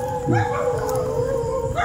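Several dogs howl and bark together at night in a residential area, with long wavering howls over yips, fairly close and continuous, faint voices in the background.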